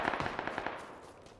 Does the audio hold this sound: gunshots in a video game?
yes